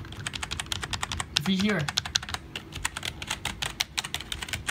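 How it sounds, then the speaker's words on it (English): Rapid keystrokes on a Logitech G213 gaming keyboard, a budget membrane board with a somewhat mechanical feel, clatter close and steady throughout, with a brief spoken remark partway in. "There's the Logitech G213. Yo, this actually sounds like a mechanical keyboard, kind of."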